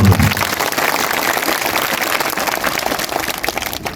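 A crowd at an outdoor community social gathering in a village applauds, a loud, continuous wash of many clapping hands filling the whole stretch, rough and hissy like heavy rain, with a brief low thump at the start.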